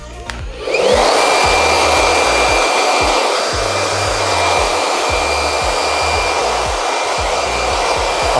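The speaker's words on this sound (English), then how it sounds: "When I do that, I use the blow dry heat." A hair dryer blows hot air to dry hair during a low mid skin bald haircut, switching on with a click and then roaring in a steady, loud, continuous whoosh close by.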